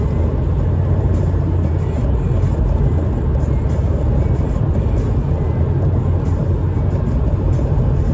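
Inside a moving car on a UK road, a dense steady low rumble of engine and tyre noise fills the cabin at a constant level, with no voices heard.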